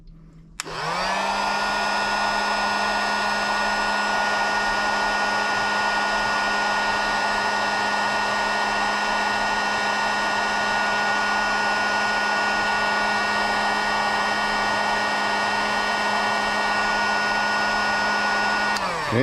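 A heat gun or dryer warms a fishing jig head before it is dipped in powder coat, blowing with a constant steady whine for about eighteen seconds, loud and close, with no talk.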